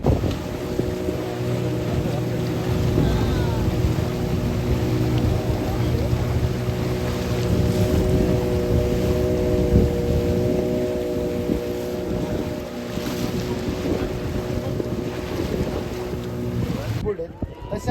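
Motorboat engine droning steadily on open water near Devbag village by Malvan, with a low hum and wind buffeting the microphone throughout, loud and continuous until it cuts out at the end.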